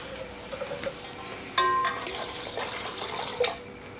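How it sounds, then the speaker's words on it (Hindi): Water poured into a homemade green sharbat to cool it, a steady close trickle and splash with a few faint clinks, no voices. "अब ठंडा करने के लिए कुछ इसमें पानी"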